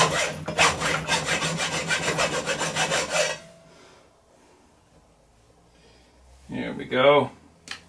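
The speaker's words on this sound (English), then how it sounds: "we can take a hacksaw and hack off that extra" A hacksaw cuts off the excess of a 30-06 brass cartridge case with quick, rasping back-and-forth strokes close by for about three seconds, then a quiet pause before a short burst of talk.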